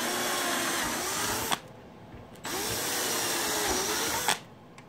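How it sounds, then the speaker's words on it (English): A power drill with a 1/8-inch bit whines steadily in two long bursts through a plastic model tank hull, each ending abruptly, with a short quiet gap between them, close by and fairly loud. "take a 1/8 drill bit while you're holding this here"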